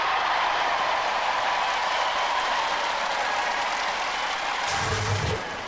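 A crowd at a Robot Wars event cheers and applauds, a loud sustained roar that holds steady before fading near the end.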